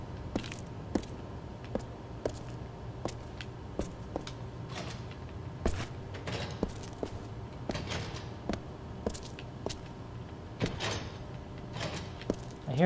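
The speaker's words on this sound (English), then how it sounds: "I hear a door going off." A door opening in the video game Turning Point: Fall of Liberty, heard among a string of sharp, evenly spaced clicks and thuds over a low, steady game hum.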